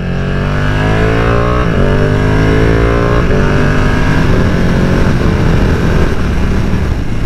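A 2020 Ducati Panigale V2 motorcycle engine revving loudly and close, its pitch climbing steadily through several gear shifts over about seven seconds, with no talk.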